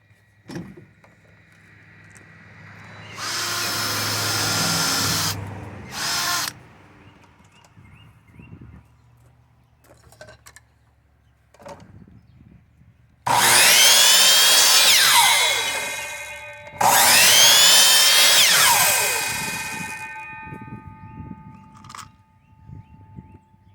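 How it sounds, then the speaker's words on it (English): A power drill whines loudly in several long bursts separated by pauses, drilling a hole in the center of a piece of wood, with faint knocks and clatter from handling in between. "I'll drill a hole in the center of it."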